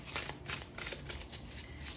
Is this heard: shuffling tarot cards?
yes